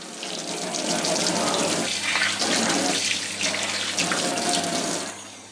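Running water from a sink tap pours steadily over BBQ grill racks as they get a quick rinse, a loud continuous splashing rush lasting several seconds with no talk.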